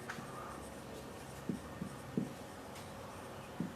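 Marker or chalk on a classroom board during a chemistry lesson on lyophilic and lyophobic colloids, a few short faint strokes spaced apart over a low background hum.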